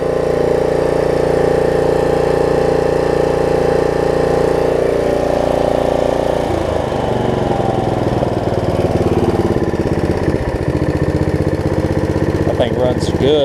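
Snapper RER riding lawn mower engine running steadily and loud close by, its note shifting and roughening after about six seconds as the throttle changes, with a brief higher mechanical whine near the end.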